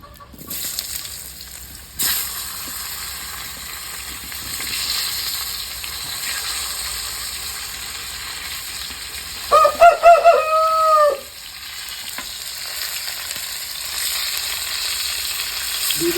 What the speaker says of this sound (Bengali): এই তেলে বন্ধুরা আলু আর ফুলকপি ভেজে নেবো আমি